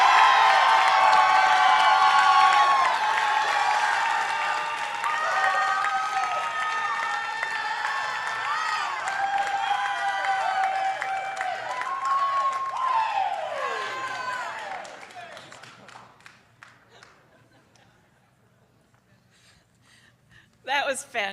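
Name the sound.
audience applauding and cheering for students at ceremony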